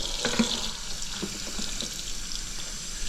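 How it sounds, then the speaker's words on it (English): Tap water runs steadily into a bottle in a continuous hiss and splash, close by, with no voices. "Just turn on the water."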